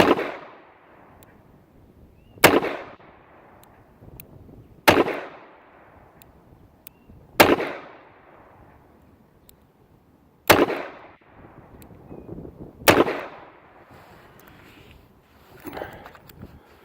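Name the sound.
gunshots from an old Ruger Speed Six revolver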